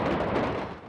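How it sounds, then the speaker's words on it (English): Fireworks, rockets and Roman candles, exploding at an outdoor festival at Marlie Farm in Ringmer, heard as a single deep, booming blast that fades over about a second. "Amateur footage from yesterday evening shows rockets, Catherine wheels and Roman candles blasting into the air."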